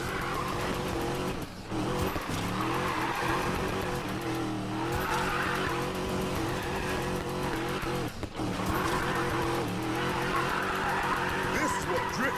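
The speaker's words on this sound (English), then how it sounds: "This is what drifting is about." Car tires squeal and skid almost continuously while drifting in the video game Need for Speed Payback, the loud screech riding over a steady engine roar with brief dips around the middle and later on.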